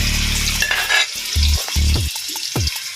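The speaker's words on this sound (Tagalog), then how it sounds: "Igisa lang natin guys ang karne para yan po ang basic ng pagluluto." Meat sautéing in a pan for pinakbet, a loud steady sizzle of frying with several bursts of stirring and scraping against the pan, close and without talk.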